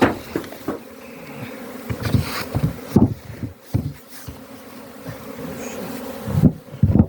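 Honeybees leave their hives at an apiary on a mild spring day, a continuous close buzzing hum with occasional louder knocks and bumps as bees fly past.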